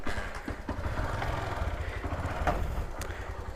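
A Honda Titan 150 motorcycle engine with an abnormal noise runs steadily up close, a continuous loud mechanical drone with faint irregular knocks throughout and no voices.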